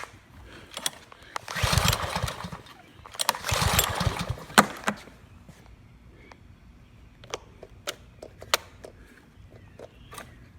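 A Murray lawn mower engine with a suspected dirty carburetor sputters in two short cranking attempts that fail to catch, followed by scattered clicks and knocks of handling on a quiet background.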